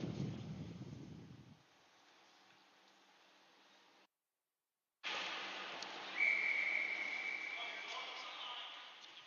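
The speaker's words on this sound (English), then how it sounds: "We'll get a whistle with just over a minute to go here in the second period." A referee's whistle at an 18U ice hockey game gives one short, shrill blast over a loud arena crowd, after a brief dropout in the sound.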